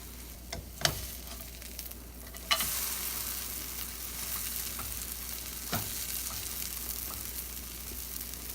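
A pancake fries in a no-stick pan with a soft, continuous sizzle, broken by a few sharp clicks and taps of a utensil near the start and middle.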